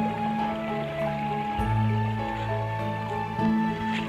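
Mountain spring water flowing from its source at a village water channel in the hills, a steady close splashing and gurgling stream with continuous loud trickling.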